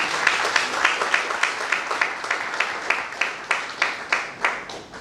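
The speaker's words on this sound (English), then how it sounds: "Please give a huge round of applause for Shubha Jyoti." An audience at an AI conclave at XLRI gives a round of applause for a speaker, a dense, steady patter of many hands clapping at moderate distance, with no talk over it.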